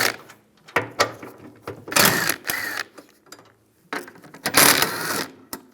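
A 13mm socket on a ratchet works four bolts loose from a heater box plate on a 2007-2013 Chevrolet Silverado, giving bursts of rapid clicking ratchet sounds separated by short pauses and metallic taps.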